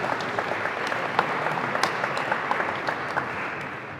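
A crowd at a Nebraska ceremony celebrating Victory in Europe claps for World War II veterans, a dense, steady round of applause lasting the whole stretch without speech.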